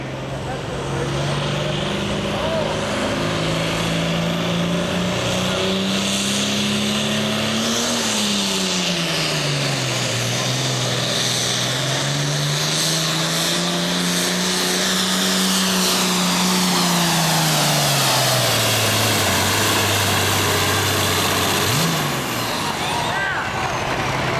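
A super-class pulling tractor at the American Tractor Pullers Association Midwest Summer Nationals roars in a loud, continuous drone whose pitch rises and falls across the pull, close and dominant throughout, with an announcer speaking over it.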